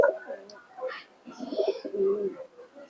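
Giribaz pigeons, Murshidabad breed, cooing close by in soft, repeated throaty phrases that run through the whole stretch at a moderate level.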